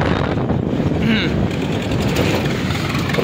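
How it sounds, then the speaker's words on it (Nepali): A tractor engine drones steadily on a road to Sansari Maidan near Biratnagar, a loud, continuous rumble mixed with wind buffeting the microphone and a person talking over it. "ट्र्याक्टरको आवाज आवाज सुनिराख्नु भएको छ।"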